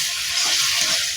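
Bottle gourd and prawns stirred with turmeric and salt in a hot pan give a steady close sizzle with soft scraping and stirring, no voices.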